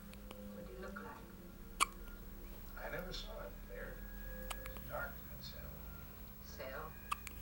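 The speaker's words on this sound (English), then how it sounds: "got the hiccups" A little girl hiccups several times, each catch small and soft, spaced a second or so apart, while an adult speaks gently over them in a quiet room.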